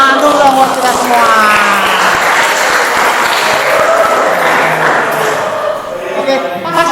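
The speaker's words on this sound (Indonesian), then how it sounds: "tepuk tangan dulu dong buat kita semua" A class of students applauds together in a classroom, sustained loud clapping that lasts throughout with a few voices mixed in.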